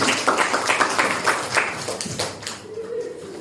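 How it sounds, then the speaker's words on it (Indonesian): A school class clapping for a group's presentation on Hindu-Buddhist kingdoms: a small group's scattered, uneven claps near the mic for a few seconds, mixed with voices and fading out at the end. "Ya, tepuk tangan"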